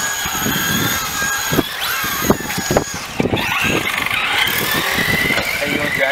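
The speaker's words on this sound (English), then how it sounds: "I'm gonna go ahead and drive my RC wherever" A fast Traxxas Slash RC car drives outdoors, its high-pitched electric motor whining and rising and falling in pitch under steady loud background noise, with several sharp knocks and people talking nearby.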